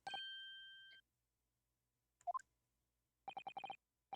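Bright metallic music-box chimes from The Great Ace Attorney: one sustained ding, then a short rising cluster of notes, then a quick run of repeated plucked tones, clear and isolated with silences between.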